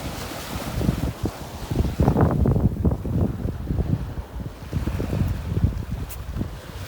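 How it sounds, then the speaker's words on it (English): Warm wind gusting across a sheltered, rocky seashore, buffeting the microphone in a steady loud rush with low rumbling surges and a faint wash of waves beneath. "It's a warm wind anyway."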